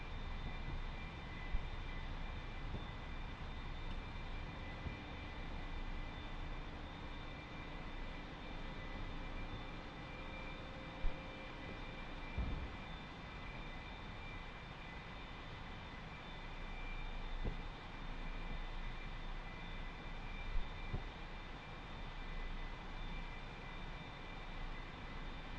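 An A-4 Skyhawk's jet engine in the DCS flight simulator gives a steady, loud drone with a constant high whine layered over broad rumble, unbroken for the whole stretch with a few faint clicks.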